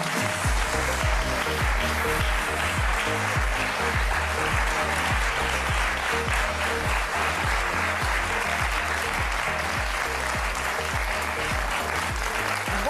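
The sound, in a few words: audience applause for guests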